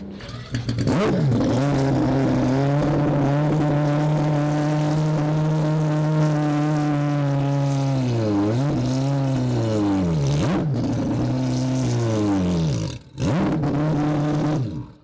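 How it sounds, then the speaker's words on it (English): A four-rotor all-wheel-drive car on a test launch pass, its engine holding a loud steady drone before pitch sweeps and rev changes, then a brief cut and renewed roar, heard close and alone. "We are doing a test pass right now, see if all-wheel drive is"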